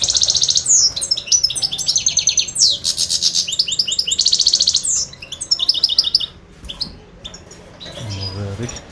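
Caged goldfinch chirping and singing close by in rapid, bright trills and twitters, continuous through most of the stretch with brief pauses, before a low hum enters near the end.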